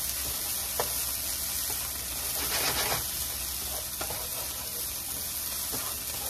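Cauliflower rice frying in a pan gives a steady, close sizzle and hiss, with a few brief scrapes of stirring and no one talking.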